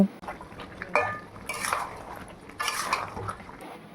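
Chicken with pre-fried potatoes and salt is stirred in a pot for chicken biryani, making a few bursts of scraping and clattering metal against metal over a low background, close by and with no talking.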